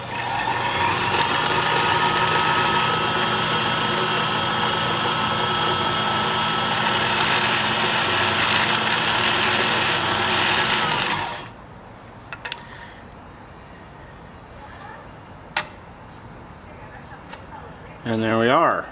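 An Elgin S-1145 sewing machine runs its bobbin winder with a steady, loud whir that holds for about eleven seconds, then cuts off, leaving a few faint clicks and handling sounds.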